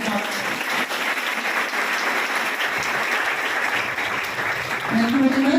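Loud, sustained applause from an audience at a Hindi-language guidance event honouring a newly appointed naib tehsildar, a dense clapping wash throughout with a swell near the end.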